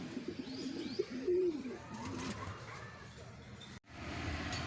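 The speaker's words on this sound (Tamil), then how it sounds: "இந்த புறாலாம் இருக்குது பாருங்கள்." Domestic pigeons kept at a home coo in a soft, repeated rolling pattern, fairly close, with faint chirps and background household noise.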